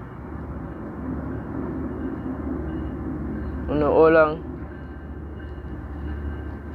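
A train rumbles along its track with a steady low drone, and a brief loud horn-like blast rises near the middle; people talk over the rumble.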